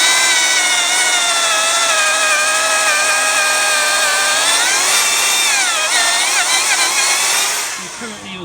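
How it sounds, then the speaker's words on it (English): An Evolution magnetic drill with a 26mm rotabroach bit cuts holes in steel, a loud, sustained whining hum with shifting harmonic pitch that dips as the cut progresses and winds down at the end. "We currently use an Evolution mag drill to drill our holes in our steel."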